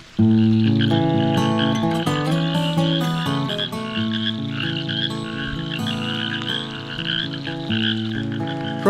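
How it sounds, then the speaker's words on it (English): A loud, dense chorus of frogs croaking close by in wet bush along the Bibbulmun Track, continuous overlapping pulsing calls filling the whole stretch without pause. "Very loud froggies."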